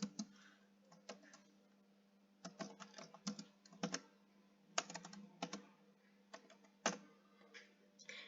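Typing code on a computer keyboard, with bursts of quick keystrokes separated by short pauses, close and fairly quiet with no voice over it.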